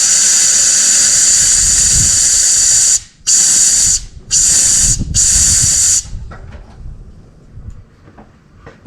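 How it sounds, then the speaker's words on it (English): An air compressor nozzle blasts air through the fuel line of a 1959 Mercedes-Benz 220S Ponton, a loud close hiss in four bursts separated by short gaps, then quiet rustling afterward. "So I'm going to blow it out again with the air compressor"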